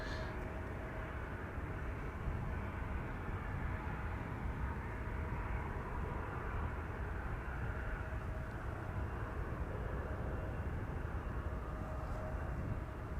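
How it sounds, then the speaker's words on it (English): Embraer 175 airliner at Amsterdam Schiphol Airport, a steady, broad engine roar holding at a constant level throughout, moderately distant with no talk over it. "Right, the Embraer 175 is coming."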